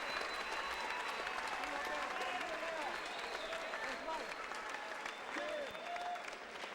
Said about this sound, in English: let's give a rousing round of applause to two warriors, Michael Warrick and Jeffrey Resto